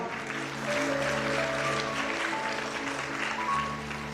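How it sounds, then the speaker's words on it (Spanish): Church congregation applauding during a Spanish-language sermon, a steady wash of clapping that swells slightly and holds under sustained organ or keyboard tones throughout. "Den un aplauso al Señor por esa palabra."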